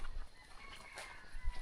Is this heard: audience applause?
no